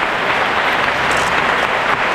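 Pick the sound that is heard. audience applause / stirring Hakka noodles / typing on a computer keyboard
audience applause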